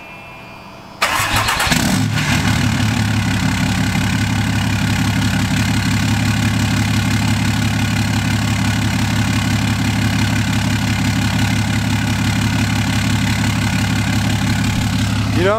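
A 6.7 Cummins diesel fires up after a second of quiet, then settles into a loud, steady, clattering idle close by that continues unchanged to the end.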